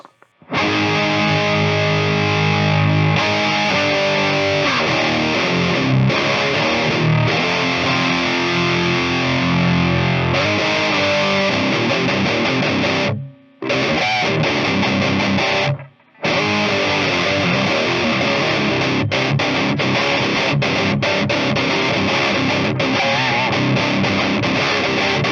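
Heavily distorted electric guitar played through a Metal AMD-1 pedal into a Nux Solid Studio with a Roman IR, loud sustained chugging and chords for about 25 seconds, with two brief gaps, no talking.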